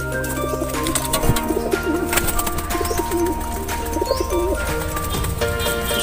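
Racing pigeons cooing in a loft, several soft throaty coos repeating over a constant background hum, fairly close, with no talking.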